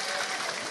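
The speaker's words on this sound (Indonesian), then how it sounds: "Tepuk tangan dulu dong buat sound sistemnya." An audience at a religious sermon gathering claps together, a dense, steady burst of applause filling the short moment.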